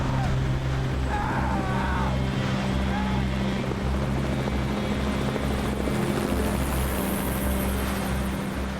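A helicopter flies over snowy Montana mountains during an avalanche rescue, its steady rotor drone loud and continuous throughout.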